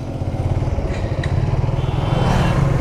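A Bajaj Discover motorcycle engine drones steadily and close while riding, with a continuous pulsing low rumble throughout.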